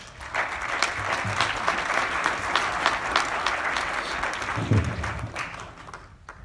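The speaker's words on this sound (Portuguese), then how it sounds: "Uma salva de palmas aqui para o Henrique Sanches." Sustained audience applause at a smart city presentation event in Lagoa, a steady dense wash of many hands clapping that holds for several seconds and tapers off near the end, with no talk over it.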